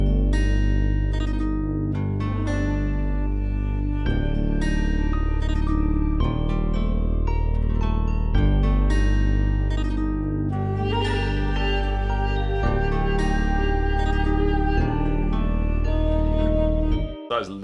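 Full dark ethnic beat in FL Studio: a deep Scorch 'Snow Barns' synth bass and steady drums under a reedy duduk melody, loud and continuous, with no talk.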